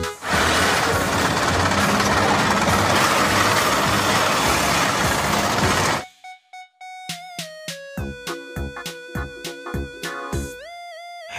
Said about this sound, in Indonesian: Mobil tank baja.